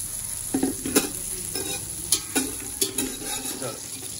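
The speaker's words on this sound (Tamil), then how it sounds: "பட்டரை போட்டுட்டு கொஞ்சம் பட்டர் கரைஞ்சி வந்த உடனே" Butter melting in a heated pan with a light sizzle, punctuated by a few soft scraping stirs near the pan.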